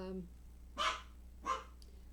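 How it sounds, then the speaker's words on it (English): Two short dog barks, fairly faint and spaced apart, following a brief bit of voice at the start. "This dog. Always barking at nothing"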